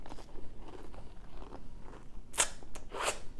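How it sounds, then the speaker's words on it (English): Crisp bites into a crunchy MRE cracker spread with apple butter, from a 2010 pork patty ration: two sharp, close crunches near the end after softer chewing and faint handling noise. "That crunch from the cracker combined with that velvety and rich texture and taste of the apple butter"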